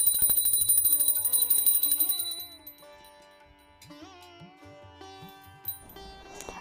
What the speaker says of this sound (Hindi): और घंटी बजा दें।